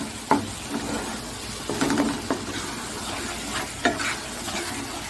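A pan of garlic pickle bubbles and sizzles steadily, broken by a few sharp stirring scrapes and clinks spaced a second or two apart.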